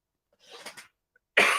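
A single person's cough, preceded by a faint muffled stifled breath, then one sharp close burst that ends abruptly.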